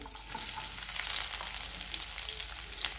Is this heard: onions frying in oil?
yes